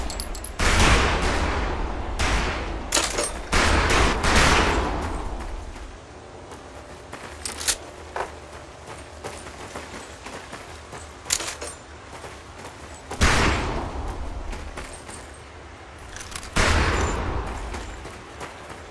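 Rifle fire at a shooting range in the Medal of Honor Pacific Assault video game: several sharp gunshot bursts, some loud and close and others faint, spaced irregularly across nineteen seconds with quieter gaps between.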